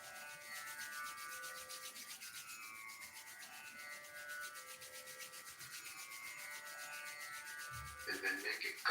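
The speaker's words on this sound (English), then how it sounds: "Rub the palms briskly." Palms rubbed together briskly during a morning yoga routine, a faint, steady soft friction that runs continuously for several seconds before a slight rustle at the end.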